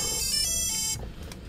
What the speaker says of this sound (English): the sound you heard is basically the ESC